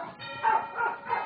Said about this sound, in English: I guarantee you, the dog is here